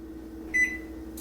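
A home oven's control gives a single short electronic beep as it is switched on, heard once over a steady low appliance hum in a kitchen.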